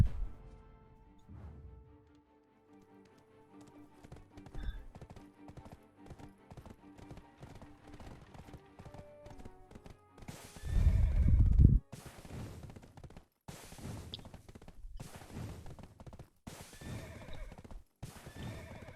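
A horse whinnies loudly amid a steady patter of clip-clopping hooves and faint game sounds, with a repeated rhythmic trot throughout, from a low-health horse in a video game.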